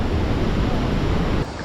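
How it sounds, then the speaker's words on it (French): A waterfall rushing loudly as a steady broadband roar, close and dense, continuing without a break until it drops slightly near the end. "Et regardez la cascade."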